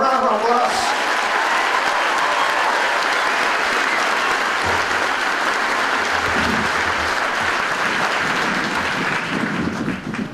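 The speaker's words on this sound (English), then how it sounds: "Could you please join me on a round of applause?" Audience applause at an Army basic training graduation ceremony, a loud, sustained wash of clapping from a large crowd that holds steady for about ten seconds before easing off.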